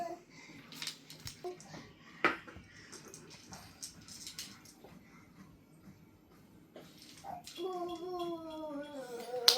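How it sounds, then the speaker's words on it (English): A teething baby boy fusses and babbles in uneven bursts near the listener, with scattered clinks of household items around him and a louder, drawn-out whiny cry near the end. "Baby boy, as you can hear, is not very happy today"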